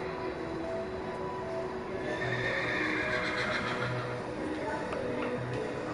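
A horse neighs in the Minecraft video game, heard as a whinny over steady game background noise with faint hoof clatter, moderately loud and close.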